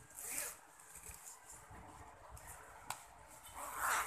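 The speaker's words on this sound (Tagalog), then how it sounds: "Ito yung zipper." A zipper drawn along a bed sheet makes several quick, close rasping zips with short pauses between them, and the last pull is the loudest.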